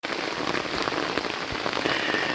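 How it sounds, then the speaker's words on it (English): Heavy rain pours during the November 2024 Pacific Northwest bomb cyclone, near house gutters and downspouts. It is a dense, steady hiss of drops hitting surfaces, loud and close throughout, with no voices. "Alright, it's raining pretty hard."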